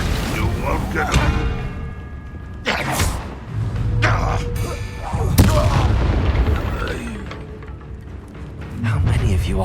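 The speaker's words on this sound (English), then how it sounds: "Incendio" In the Hogwarts Legacy video game, an Incendio fire spell bursts among heavy booms and deep impacts in a magical duel, loud and repeated, with voices talking throughout.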